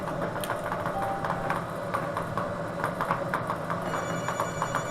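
A telephone rings for an incoming caller during a televised bingo broadcast, a repeated bell-like ring pattern running steadily through the clip, moderately loud with a faint hum beneath.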